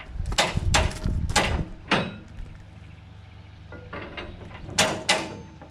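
A winch on a Conestoga tarp kit ratchets in a few close, sharp metallic clicks, first a quick cluster and then a couple more after a pause, over a low steady engine hum.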